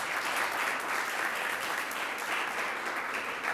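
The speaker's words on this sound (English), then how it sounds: "Let's give them all a round of applause." Steady applause from an audience at an award ceremony for a migration-story writing contest, a dense, continuous wash of clapping at a fairly even level throughout.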